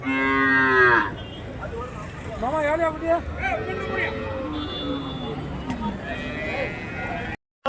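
A cow gives a long, loud moo at a native-cattle market in Krishnagiri district, India, followed by a busy crowd of voices and shuffling, with more cattle lowing faintly in the background.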